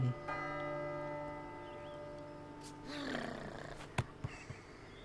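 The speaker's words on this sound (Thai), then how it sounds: "ระฆัง" A bell rings in the video game Last Day of June. A resonant, humming toll sustains and slowly fades, then a few sharp knocks follow near the end.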